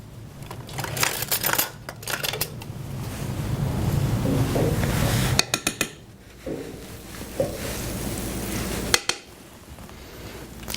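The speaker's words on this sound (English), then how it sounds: "I'm going to add some olive oil to the skillet." Olive oil and a little butter heating in a hot skillet, a steady broadband sizzle with brief clatters and pauses, fairly close and moderately loud.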